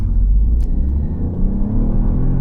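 An Alfa Romeo Junior 1.2 MHEV Q4 hybrid car accelerates hard in a 0-100 sprint, a steady loud engine rumble and whir heard from inside, holding continuously with no talk.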